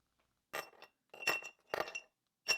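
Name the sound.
ice chunks clinking into a glass mason jar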